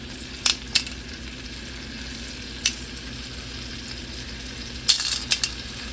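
Gulf shrimp cooking in a hot pan for shrimp scampi give a steady, soft frying hiss, broken by a few sharp clinks and stirring scrapes near the start and end.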